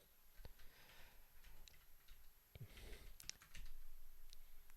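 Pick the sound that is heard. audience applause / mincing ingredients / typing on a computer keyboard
typing on a computer keyboard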